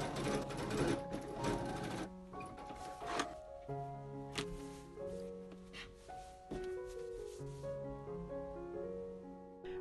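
Sewing machine stitching the seams of a patchwork fabric stocking, running steadily and close, with its whirring motor changing pitch as the stitching speeds up and slows down.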